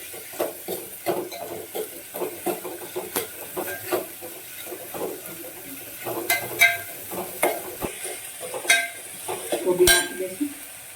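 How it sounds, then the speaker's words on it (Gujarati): Cabbage tossed into a hot pan and stir-fried for Manchow soup, with steady sizzling under repeated scraping and clattering of a spatula against the pan, close and moderately loud, with no one talking. "કોબીજ નાખી દઈશું"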